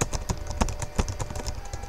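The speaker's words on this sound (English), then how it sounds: "And I'm just typing it in." Rapid, uneven clicking of keys on a computer keyboard while text is entered, close and fairly quiet, with a steady stream of light taps.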